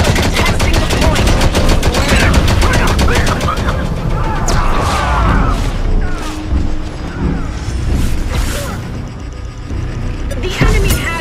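Turret machine-gun fire in the Modern Combat Versus video game, a loud dense stream of rapid close bursts with scattered impacts and crashes mixed in, continuous throughout.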